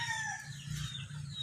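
A broodstag rooster crows in a short, loud, continuous call that fills the moment, with no voices alongside it.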